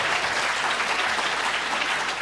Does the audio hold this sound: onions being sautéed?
no